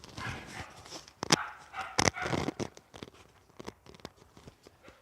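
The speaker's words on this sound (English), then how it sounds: "Go away, dog." A dog barks in an open park, a few sharp, loud barks close by in an uneven burst with some panting between them.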